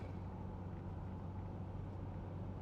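A 1990s GM car drives along, heard from inside as a low, steady engine and road rumble with a smooth continuous drone, fairly quiet and with no talking.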